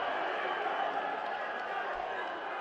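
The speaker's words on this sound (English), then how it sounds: "Crowd making noise" Basketball arena crowd during a free throw at a Georgia versus South Carolina game: a steady, dense wash of murmuring crowd noise with no breaks, fairly distant.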